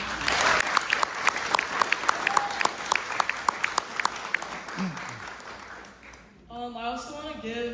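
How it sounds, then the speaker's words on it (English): An audience at an Eagle Scout Court of Honor gives a long round of loud clapping with scattered sharp claps, which fades before a voice starts speaking. "can we get a huge round of applause for the Court of Honor team and the Masters of Ceremonies for today?"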